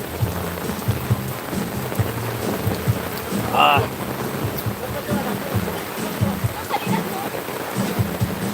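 Steady rain pattering on a surface with a low rumble of thunder partway through, heard during a live stream with faint voices in the background.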